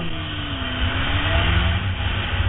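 Honda CB900F motorcycle pulls away, its engine rising in a smooth climbing drone with gliding pitch, loud and close, heard alone without talk.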